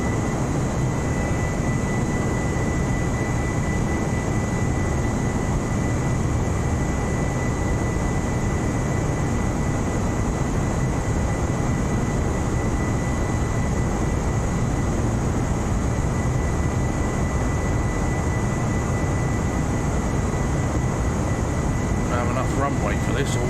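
An aircraft taxis for takeoff in a flight simulator, with a steady, loud engine drone and a constant whine holding unchanged throughout, while a voice talks over it.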